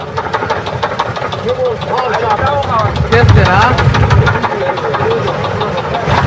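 An expedition truck engine with a suspected piston fault idles close by, a steady rough rumble with irregular knocking pulses throughout.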